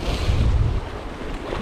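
Strong wind blowing at the seashore during sea fishing, a loud, constant buffeting roar against the microphone, mixed with a low wash of surf.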